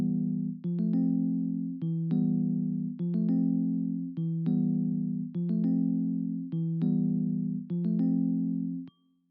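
Piano melody in Logic Pro X, duplicated onto a second piano, playing a repeating phrase of chords and notes in a steady looping rhythm, clear and loud with no voices, for an Afrobeat beat.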